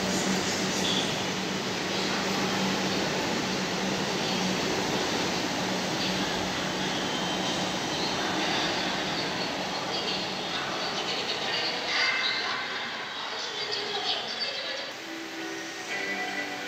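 A Kolkata Metro train pulls out of Dakshineswar station with a broad, loud rushing roar that holds steady, then thins and fades toward the end as it departs.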